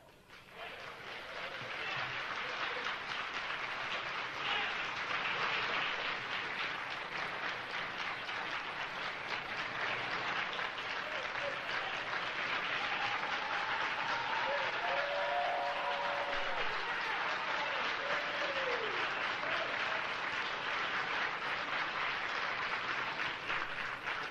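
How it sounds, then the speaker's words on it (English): Audience applause in a community theater for Stokely Carmichael's mother, a dense, steady wash of clapping sustained for over twenty seconds, with a few voices calling out over it. "I want everybody to give her a round of applause"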